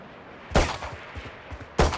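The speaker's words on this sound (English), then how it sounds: "Now shoot that flying target for me." Two sharp, loud rifle shots in the Valorant video game at a training range, about a second apart, with fainter clicks and impacts between them.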